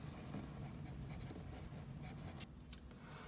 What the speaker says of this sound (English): So I'll write it out.